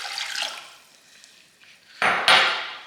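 Vinegar pours into a container for pickle brine for pork trotters, a soft liquid rush that fades before a louder, abrupt splashing pour begins and continues steadily to the end, with no voices.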